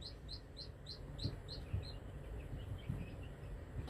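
Young hens, Ameraucanas and Rhode Island Reds, chirp at high pitch in quick repeated bursts, with soft low clucks scattered beneath them on a small farm.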